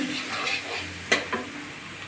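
Dried chilies and garlic temper in hot oil with a soft, steady sizzle, and a couple of sharp utensil scrapes and stirs cut in near the middle.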